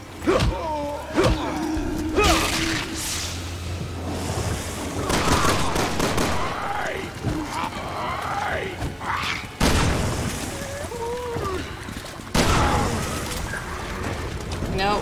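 Shotgun fire in the video game Resident Evil 6: heavy booming blasts at intervals over dense game music and effects, with people talking and reacting throughout.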